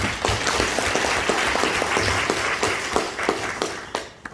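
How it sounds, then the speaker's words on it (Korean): Audience at an association event gives sustained, dense applause that runs steadily for about four seconds and then begins to taper off. "큰 박수 주십시오."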